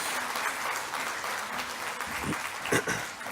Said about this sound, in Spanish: les vamos a dar un aplauso porque es mucha gente la que participa con él